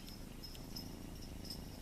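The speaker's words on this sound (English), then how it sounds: "Oh, he's purring. Can you hear him purring?" A low, steady rumbling purr fills the clip, faint and continuous, with a thin high whine drifting above it.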